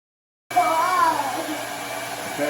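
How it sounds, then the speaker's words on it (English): A hair dryer switches on abruptly and blows a steady, close whirring rush of air, a rising whine settling into a constant hum for about two seconds. "go ahead and take the hair dryer out."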